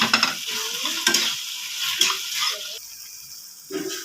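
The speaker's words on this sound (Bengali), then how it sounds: "সব মশলা কষিয়ে নেব।" Spices and several sauces are sautéed and stirred in a pan for prawn chili, with bursts of sizzling and scraping strokes that come and go, then fade quieter toward the end.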